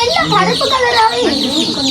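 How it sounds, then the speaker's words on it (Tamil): Chicks newly brought home, a group of about twenty, peep and chirp loudly and continuously close by, with voices talking alongside them. "18 கோழி குஞ்சு உண்மைக்குமே நாங்க கோழி குஞ்சுனா வாங்கினாங்களே"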